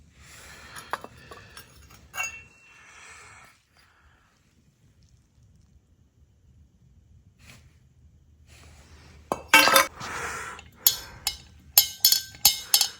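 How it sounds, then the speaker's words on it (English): Metallic rattling and clinking from worn bearings in a Briggs & Stratton 141cc two-stroke engine on a Toro CCR3650 with connecting rod failure, quiet at first, then sharp loud knocks and taps in quick bursts near the end. "Those bearings don't sound great."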